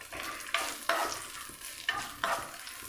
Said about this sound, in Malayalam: ചെറുതായി കട്ട് ചെയ്തെടുത്തിട്ടുള്ള നമ്മുടെ അണ്ടിപ്പരിപ്പ്, അതേപോലെ തന്നെ ബദാം, പിസ്ത എല്ലാം കൂടെ നമുക്കൊന്ന് റോസ്റ്റ് ചെയ്തെടുക്കാം